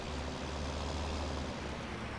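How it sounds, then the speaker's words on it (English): A tractor in the video game Farming Simulator 19 drives on, a steady low engine drone with a continuous rumble and no breaks, moderately loud and alone throughout. "Whilst our tractor heads off to the sell point to"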